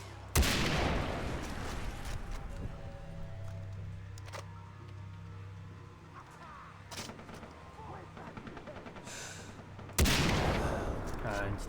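Gunfire in the video game Far Cry 3 includes loud shots at the start and end, with scattered cracks and a steady rumble of game ambience between them, all heard close with no voices.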